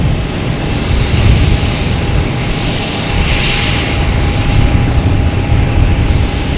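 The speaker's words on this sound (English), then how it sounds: "United Airlines on 15 right, taking off, heading to LAX." A United Airlines airliner takes off from runway 15 right at Boston Logan Airport, a broad, loud roar of jet engines swelling and washing past, steady with a rising hiss midway.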